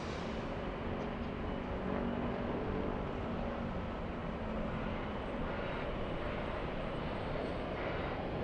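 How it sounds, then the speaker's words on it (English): A steady, distant roar from a Delta Airbus A350 jet bound for Haneda, a broad even rumble that holds level throughout with no voices. "We have the Delta 7 flight. That's the A350 flying to Haneda."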